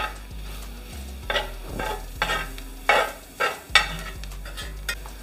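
A silicone spoon stirs gumbo vegetables in a pot, giving a series of soft scraping, clattering strokes over a low steady sizzle, fairly close and alone.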